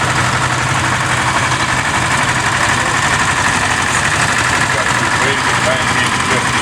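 An Oliver tractor engine runs steadily at a summer farm show, a constant loud low rumble with mechanical clatter throughout, while a commentator talks over it.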